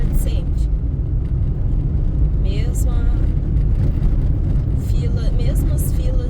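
Road traffic roars steadily along a congested urban avenue as cars and buses pass in a continuous rumbling wash, with occasional brighter whooshes and hiss layered on top.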